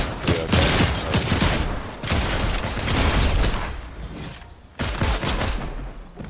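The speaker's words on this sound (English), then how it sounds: "Somebody's shooting towards Jackie boy" Rapid bursts of gunfire in the video game Fortnite, loud and dense, arriving in several volleys with short gaps between them.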